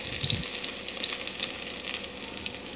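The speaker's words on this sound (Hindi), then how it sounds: "देखिए, हमारा तेल गर्म हो गया है। ज़ीरा, तेज पत्ता हम इसमें डाल देते हैं" Cumin seeds and bay leaf sizzle in hot oil in a home kitchen, a steady, moderately quiet frying crackle with small pops throughout and no talk.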